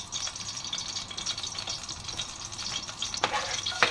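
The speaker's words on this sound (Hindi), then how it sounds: "इसमें हम अपना चॉप किया हुआ लहसुन डाल देंगे।" Chopped garlic sautéing in butter or oil in a pan for Alfredo pasta, a steady close crackling hiss with light stirring clicks and a brief sharper scrape near the end; no talking.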